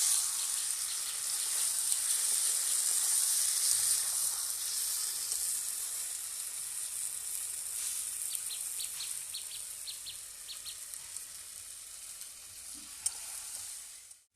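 Food frying in a home kitchen gives a steady, even sizzle and hiss that is loudest at first and eases slightly. Faint small clicks sound now and then under it.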